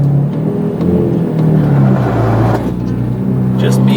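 A lowered BMW E30 daily driver pulls away with a steady, close engine drone and mild revving that rises and eases, with faint voices in the background.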